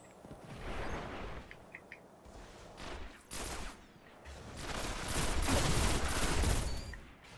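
Rapid bursts of gunfire in the online shooter Destiny come in uneven volleys, loudest and densest toward the end, with short quieter gaps between.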